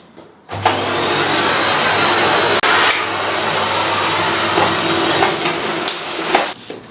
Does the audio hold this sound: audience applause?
no